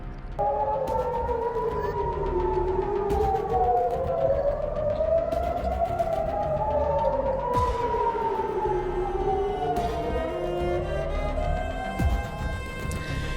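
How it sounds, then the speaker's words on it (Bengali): Air raid sirens wail over Jerusalem, several overlapping tones slowly rising and falling in long sweeps, steady and loud throughout with no voices. "পাল্টা হামলার আশঙ্কায় জেরুজালেমে সাইরেন বাজতে দেখা গেছে"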